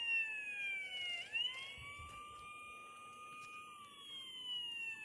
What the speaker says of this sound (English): there's the sirens going off